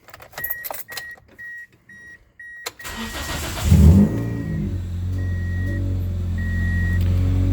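A 2003 Pontiac Vibe GT 2ZZ-GE engine starts after some jingling keys and settles into a loud, raspy idle with no muffler, a deep rumble, steady and close.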